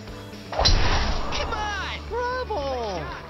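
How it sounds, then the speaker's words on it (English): A golf ball skims and skips across a water hazard in the PS4 game Everybody's Golf (2017), a splashy impact followed by a few quick bouncing skips and sweeping tones, with game sounds around it. "one of the things you can do is you can play the water skip"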